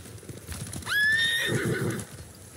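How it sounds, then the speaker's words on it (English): A samurai mount in a Ghost of Tsushima video game gives a single loud, rising whinny that fades out. Soft hoof clip-clops sound underneath, with no talk. "Horse!"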